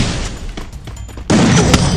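Gunfire in the Free Fire mobile shooter game, a quick run of sharp shots that grows into a louder, denser burst near the end, all close and prominent.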